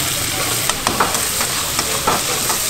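Karahi frying in oil at a Pakistani street food stall in Pindi, a loud continuous sizzle with a few sharp clicks and clatters of stirring.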